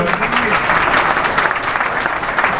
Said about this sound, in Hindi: तो एक बार नरेश सेन जी के जोरदार तालियां बजाइए।